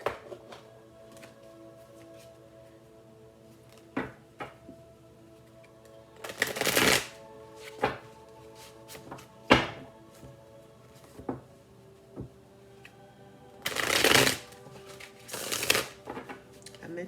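A deck of tarot cards shuffled in several quick riffling bursts, close and crisp, with scattered taps and card handling between them in an otherwise quiet room.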